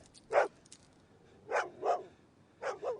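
A dog barks in the night in a horror film, giving one sharp bark and then a cluster of four more in two quick pairs, moderately loud with no talk over them.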